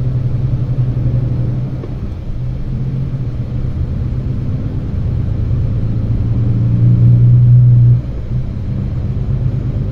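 A new truck's engine accelerating, heard from inside the cab as a loud, steady low rumble with a droning tone that rises in pitch and level before easing off near the end.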